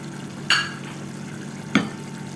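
A spoon stirs chicken curry in a pan after lemon juice and a stuffed chilli go in, with two distinct scraping clinks over a soft background hiss.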